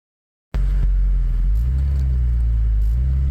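A car engine starts abruptly and settles into a deep, throaty idle with a low exhaust rumble through a spread exhaust, rising slightly in a brief rev, close and loud.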